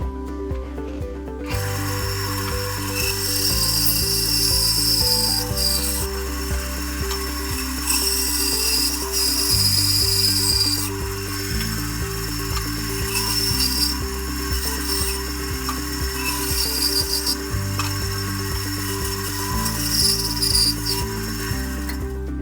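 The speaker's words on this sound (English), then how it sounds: "it's much better to take the sides down and this knob off the bottom on the bandsaw" A bandsaw cutting an apple firewood log into a bowl blank: a loud steady motor drone with rasping, grinding cut noise rising and falling in repeated passes over twenty seconds, no talking.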